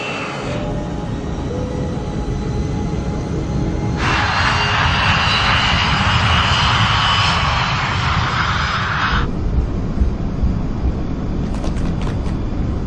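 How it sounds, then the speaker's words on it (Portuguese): Jet engines of a West Caribbean airliner, flight 708, roar during a night takeoff roll on runway 21 left at a Panama airport. The loud continuous roar swells in the middle and then eases back. "West Caribbean 708, pista 21, esquerda, liberada para decolagem."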